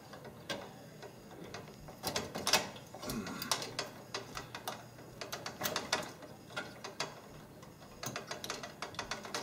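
Screwdriver working a bracket screw on an arcade cabinet's coin lockout coil, giving repeated close ratcheting clicks and scraping turns in irregular bursts, with no talk.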